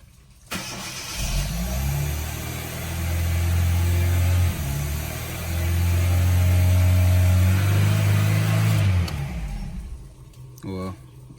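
A car engine on a cold start surges and revs high above 3,000 RPM, a loud, sustained roar close by that rises and holds for about eight seconds before cutting off abruptly.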